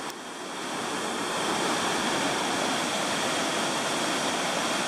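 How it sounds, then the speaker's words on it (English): The swollen Appomattox River rushing high with whitecaps after heavy rain from Hurricane Matthew, a steady, loud broadband roar of churning water that fills the whole stretch without a break. "This is the swollen Appomattox River."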